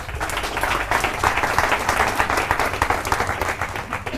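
A large audience at a Forever Living Products business talk claps steadily and loudly, dense overlapping applause sustained throughout with no speech on top.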